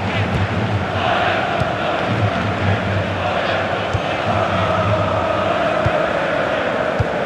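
Stadium crowd noise in the FIFA 17 football video game forms a loud, steady roar of massed voices with a broad rushing texture and occasional thumps, with no clear speech.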